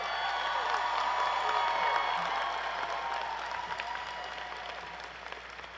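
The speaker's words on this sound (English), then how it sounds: "Let's give him a round of applause." A roomful of people at a college graduation ceremony clapping in steady, sustained applause that gradually thins out toward the end.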